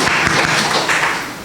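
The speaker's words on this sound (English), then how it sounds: "Give yourself a round of applause" Applause from a temple congregation at a Buddhist Dharma service, a dense, steady patter of many hands clapping close by that fades slightly toward the end.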